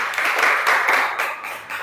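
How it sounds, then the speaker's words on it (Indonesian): A classroom audience claps for a group presentation, a short burst of many hands applauding together at moderate loudness that fades slightly toward the end. "terima kasih buat kelompok 2, tepuk tangan atas presentasinya."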